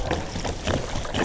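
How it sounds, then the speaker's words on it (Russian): Water is poured from a watering can onto freshly planted soil in a garden, a soft steady splashing trickle close by, with no talk over it. "Сейчас польем"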